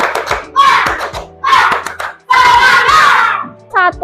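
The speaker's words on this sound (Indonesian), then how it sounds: "kita tepuk semangat dulu. Tepuk semangat!" A primary school class claps the 'tepuk semangat' routine in short rhythmic bursts of hand claps, close and loud, with pauses between sections and children's voices joining in.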